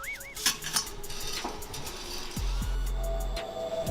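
Pots and utensils clatter while pasta is cooked, with close metallic clinks and scrapes over a steady background, plus synthetic whooshing and tonal effects layered in.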